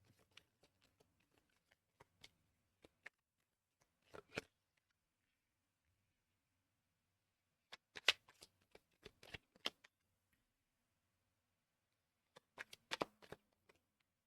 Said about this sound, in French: Je vais déjà mettre toutes les cartes.